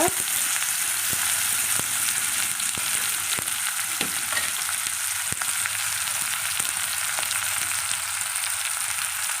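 Onions and green chilies fry in a pan for a Tamil dried-fish curry, giving a steady close sizzle with scattered stirring clicks throughout, and no one speaks.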